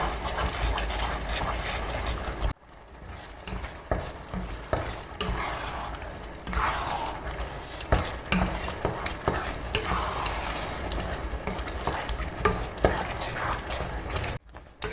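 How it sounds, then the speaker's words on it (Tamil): Mango, jackfruit and banana halwa cooking in ghee while being stirred, thick sticky scraping and bubbling in uneven strokes, close and moderately loud, with no talking. "நல்லா கலந்து விட்டுருங்க"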